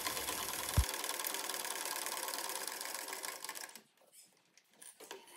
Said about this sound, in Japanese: 返し口を開けて縫い代1センチぐらいで縫います。